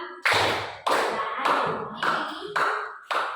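The night round of a classroom clapping game: six crisp hand claps at a steady, even pace, each with a short echo dying away before the next.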